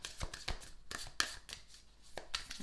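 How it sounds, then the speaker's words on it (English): Affirmation card deck being shuffled by hand, a quick run of soft, close riffling snaps and slaps in an irregular rhythm, with no talking. "Let's just shuffle a little bit more."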